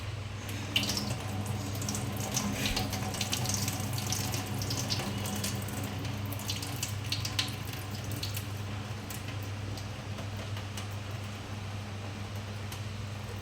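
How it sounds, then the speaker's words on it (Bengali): Tap water runs steadily into a sink as raw shrimp are rinsed in a home kitchen, a continuous close splashing stream with a low hum in the background and no talk. "এটা হচ্ছে চিংড়ি মাছ ধোয়ার পদ্ধতি।"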